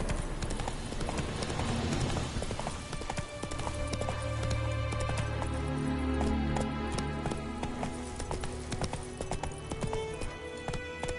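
A horse gallops in The Witcher 3, with rapid rhythmic hoof clip-clops running steadily and loud, layered over game music with no talking.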